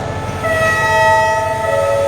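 An express train departs from a railway station, its horn sounding as a sustained tonal blast over the low rumble of the train, loud and close.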